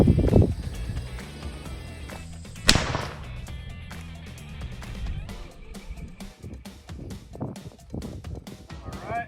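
A single sharp rifle report from a Remington 783 in .450 Bushmaster cracks out loud and close, then fades into outdoor ambience with handling clicks and a brief spoken word.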